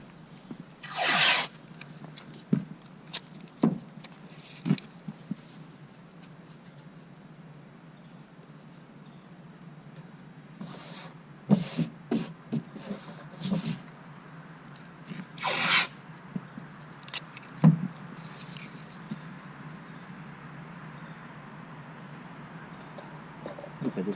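Masking tape is pulled off the roll and pressed onto car door trim before painting, giving several quick tearing rips and short rubbing strokes at close range, spaced irregularly over faint background hiss, with no talking.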